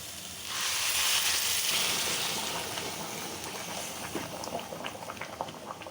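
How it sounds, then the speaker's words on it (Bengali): Hot water pours into a hot pot of chicken pulao with browned rice and meat, giving a loud hiss and sizzle that slowly eases into softer bubbling and crackling. "পানিটা ঢেলে দিচ্ছি পোলাওটা তাড়াতাড়ি হয়ে যাওয়ার জন্য গরম পানি দিয়েছি"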